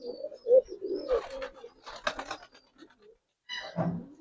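Colouring Giribaz pigeons coo in a few low, throaty bursts with short pauses, close by, mixed with soft rustling and fluttering noises; no voices.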